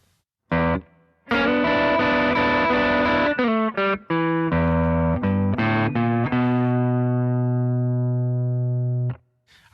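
A blues turnaround lick on electric guitar: a quick run of picked notes that lands on a sustained ringing chord, close and clear, then cut off, with no talking.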